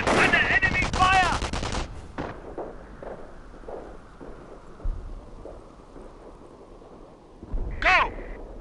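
Rapid machine-gun and rifle fire from the Company of Heroes Falaise Pocket mission crackles loudly at the start, then fades into scattered distant shots, with a brief battle voice line near the end.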